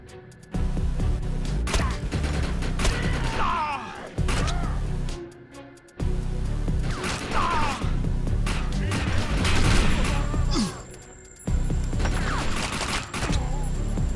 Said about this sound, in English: Just shoot him.